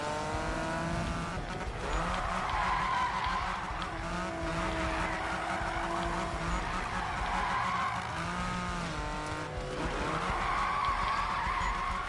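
In the Need for Speed video game, a drifting car holds long tire skids and squeals over a revving engine, with pitch sweeps as the throttle is stabbed and the handbrake pulled, for about twelve seconds.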